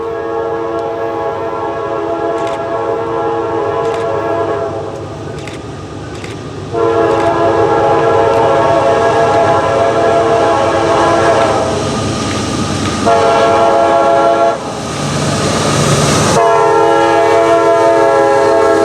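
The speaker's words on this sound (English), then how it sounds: "here comes a northbound CSX." A northbound CSX freight train passes close by, its chord horn blaring in long, loud blasts over the steady rumble and clatter of rail cars.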